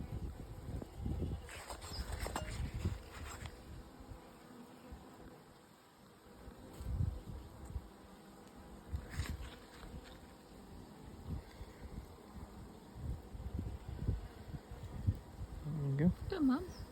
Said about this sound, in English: So quite a lot of young bees in here because the broods emerged.